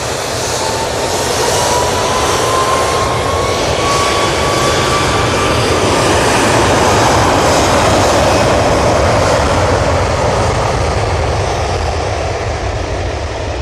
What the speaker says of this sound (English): ATR 42 is like taking ages to get out of the way.